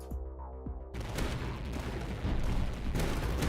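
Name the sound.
Reaper Cannon tower firing in the video game Tower Dominion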